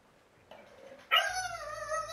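In the video game Horizon Burning Shores, a dog gives a faint sound, then a louder, drawn-out bark or whine that rings on steadily to the end with no talking over it.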